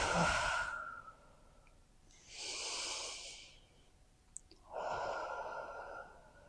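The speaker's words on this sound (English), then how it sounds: "take a moment to take a few big, deep breaths." Three slow, deep breaths during seated chair yoga, each a long airy exhale or sigh separated by quiet pauses, close and calm with no talking.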